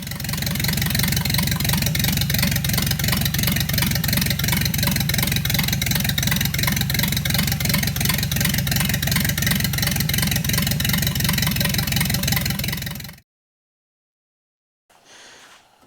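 A rusty Ford Model A Roadster engine running steadily at a fast idle, a loud, even mechanical chugging that continues unbroken for about thirteen seconds before cutting off, followed by a brief faint noise.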